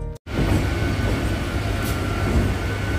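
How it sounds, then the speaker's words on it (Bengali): A Vande Bharat Express train pulls into a platform at Howrah station, a continuous loud rumbling roar of wheels and carriages close by, with no talking over it. "আমাদের নিউ জলপাইগুড়ির বন্দে ভারত হলো এইটিও কিন্তু প্ল্যাটফর্মে ঢুকছে 1 ঘন্টা আগেই"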